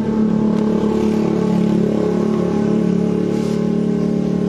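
Motorcycle electric starter cranking on a weak battery, a sluggish continuous grinding whir held for several seconds at close range, with no speech.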